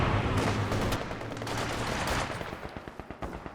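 Penal infantry gunfire in the video game Company of Heroes 2, with dense rifle and automatic fire crackling over a busy battle bed, then sharper separate shots toward the end, no talk.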